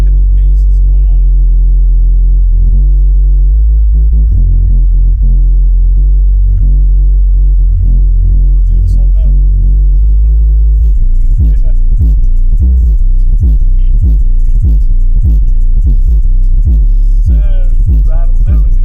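A MOBIATOR 12-inch 1600W subwoofer pumps deep, loud bass throbbing continuously, with heavy rhythmic low-end pulses growing punchier in the second half and quiet music barely above it.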